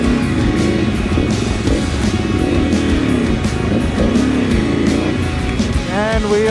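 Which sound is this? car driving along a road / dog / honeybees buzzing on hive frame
car driving along a road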